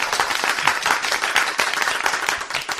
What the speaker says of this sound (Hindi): बच्चा लोग एक बार ताली जोर से।